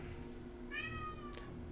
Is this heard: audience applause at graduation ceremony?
no